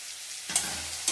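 Chopped chayote sautéing with onion in a hot pan, a steady close sizzle with a brief stirring scrape near the start and again at the end.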